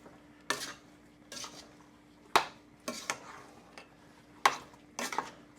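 A wooden spoon or utensil stirring fiery peach salsa in a pot, a series of about seven distinct scraping, clinking strokes spaced roughly a second apart, close and fairly quiet against a faint background hum.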